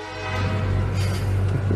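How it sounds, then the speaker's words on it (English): A police officer sounds a loud train horn to startle fellow officers, a blaring, sustained low chord held for the full duration, close and overpowering. "Cop uses train horn to scare other officers."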